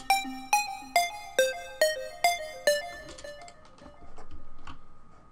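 Synth preset pattern for a trap beat, lightly equalised with a touch of delay: seven evenly spaced plucked notes in a steady rhythm, followed by softer delayed echoes and a sustained swelling tone, alone with no voices.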